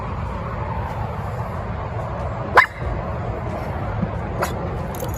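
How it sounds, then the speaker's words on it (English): Dog barking outside the Woodburn Outlet Malls, a single sharp bark close by, followed later by a fainter second yip, over steady outdoor traffic and crowd rumble. "What are you barking at?"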